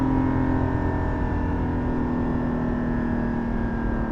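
Porsche 718 GT4 with a Soul exhaust heard from inside the cabin, holding a steady engine drone around 4,500 RPM, loud and continuous with no talking.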